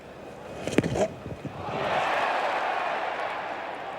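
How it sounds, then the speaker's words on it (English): Test match crowd at an Australia versus South Africa cricket game, a brief burst of shouts and voices followed by a sustained, swelling roar of cheering that holds steady and fills the ground. "Crowd certainly getting very involved here"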